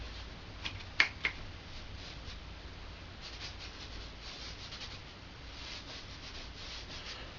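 Chalk rubbed across a chalkboard in a wine glass drawing, a continuous close scratchy rubbing with a couple of sharp taps near the start and no talking.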